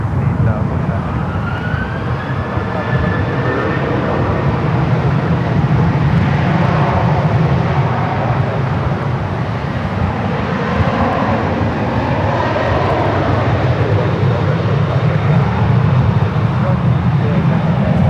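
Delta Boeing 767-300ER, a 34-year-old airliner, holding on runway 1 right at SFO, its jet engines giving a loud, steady roar with a faint whine throughout, joined by radio chatter.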